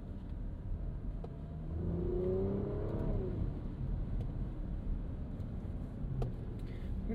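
A 2023 Porsche Macan S with a 2.9-liter twin-turbo V6 and sport exhaust revs up, a rising engine note climbing over steady road and cabin noise, heard from inside while driving, with no talk.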